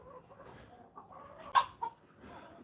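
A Rhode Island Red hen clucks softly and intermittently near the coop on a farm, giving a few short, faint clucks with a sharper squawk midway.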